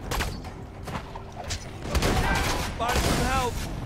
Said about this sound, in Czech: ta brokovnice je dobrá